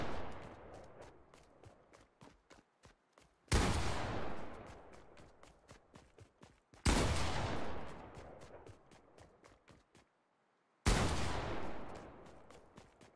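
Three loud gunshots in the video game Fortnite Battle Royale ring out with long echoing tails, interspersed with rapid, steady footsteps pattering close by.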